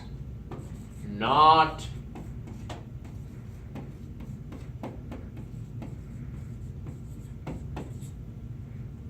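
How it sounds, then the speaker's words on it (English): Hand-writing a word on paper gives faint scratchy pen strokes and light taps spread across the clip, with a short spoken word early on over a steady low background hum. "I should really write the word not in front of these words."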